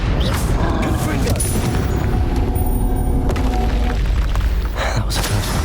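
The Confringo fire-blast spell from Hogwarts Legacy, played on Nintendo Switch, bursting in loud booming explosions and thuds over a dense, continuous combat soundscape.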